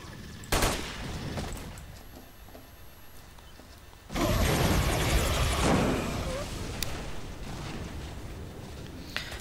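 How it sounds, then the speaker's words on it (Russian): Gunfire from a helicopter in the video game S.T.A.L.K.E.R. crackles in sharp bursts, first a single loud report, then a sustained heavy barrage of rapid shots with a droning engine behind it, while someone talks. "Слушайте, так в меня походу стреляли с вертолета."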